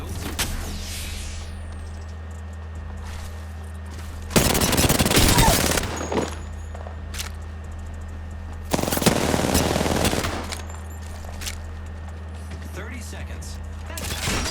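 Gunfire in Apex Legends comes as two sustained, rapid automatic bursts, each lasting about two seconds and separated by a few seconds of low droning background hum, with a couple of sharp, isolated shots at the start.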